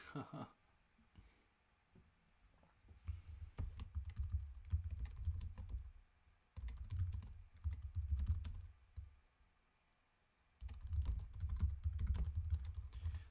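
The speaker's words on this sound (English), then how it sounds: "You guys get a little ASMR on this typing over here." Rapid typing on a computer keyboard comes in three long dense bursts of close, soft key clicks, separated by short pauses, with no talking over them.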